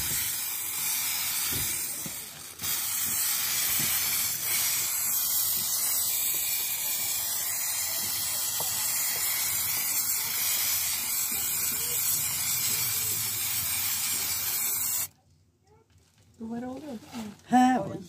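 A spray paint can being sprayed onto a wall in a long, steady, loud hiss lasting about fifteen seconds with a brief dip early on, then stopping abruptly; afterward, faint voices are heard.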